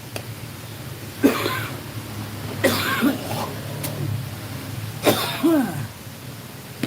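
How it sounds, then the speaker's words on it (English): Three separate bursts of coughing, each a short harsh fit, with a low steady hum in the background between them. "and I know it makes me coughing."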